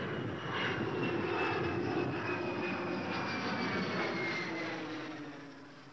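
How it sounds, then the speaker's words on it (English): A steady, droning aeroplane engine in the video game Max and the Secret Formula passes overhead, swelling and then slowly fading, loud and continuous with no voices. "That must be an aeroplane."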